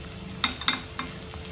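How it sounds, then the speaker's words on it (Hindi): Onion, chili and garlic fry in a pan for bhindi masala, giving a steady sizzle broken by a few sharp scraping clicks as the spoon stirs. "और इसे थोड़ा सा रेड होने तक मैं फ्राई करूँगी।"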